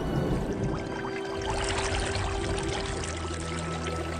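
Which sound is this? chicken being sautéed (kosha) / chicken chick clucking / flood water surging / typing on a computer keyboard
flood water surging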